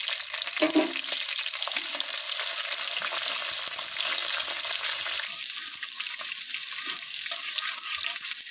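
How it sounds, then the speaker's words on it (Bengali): Green chillies frying in oil in a pan crackle and sizzle steadily at moderate volume, with occasional stirring scrapes. "লঙ্কাগুলো ভাজা হয়ে গেছে, এরপর দিয়ে দেবো পেঁয়াজ কুচি।"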